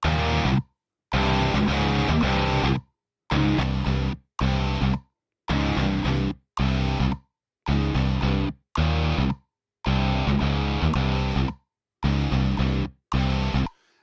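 Two copies of the same distorted electric guitar riff from the Riffler app on iOS, panned apart, play in loud chopped bursts separated by short silent gaps.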